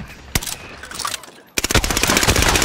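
Automatic gunfire in the Warzone video game, with a single sharp shot early on, then a rapid, steady burst of rounds firing nearby.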